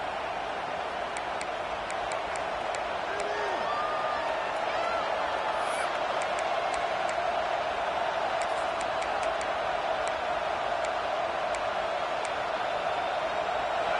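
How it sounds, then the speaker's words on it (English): Stadium crowd in EA Sports College Football 26, a Florida Gators dynasty game, rumbles as a steady, loud roar throughout, with faint whoops and scattered ticks rising above the dense wash. "This crowd ready to make its presence known."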